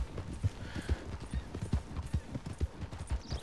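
Horse hooves clip-clopping at a steady walking rhythm in Red Dead Redemption 2, the first horse the game gives, close and distinct with no one talking.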